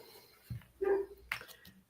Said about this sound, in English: Probably gonna hear my dog bark